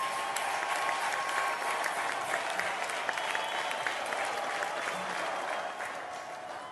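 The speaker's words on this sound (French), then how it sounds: "Applaudir pour Pascal." An audience applauds after a traditional performance at a talent show, dense steady clapping filling the hall at moderate distance and easing off slightly toward the end.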